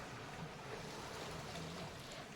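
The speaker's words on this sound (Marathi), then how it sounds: "या लाटा या सागरी तटाला लढा देत आहेत" Sea waves wash against the coastal wall of Vijaydurg fort in Konkan, a faint continuous surging roar with no clear individual breaks and no voices.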